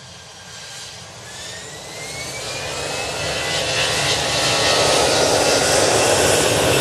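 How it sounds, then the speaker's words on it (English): An easyJet airliner moves along a taxiway at Manchester Airport, its jet engines giving a broad roar with a rising whine that grows steadily louder as it approaches, with no talking. "EasyJet coming down Tango. They're going to be off to Faro."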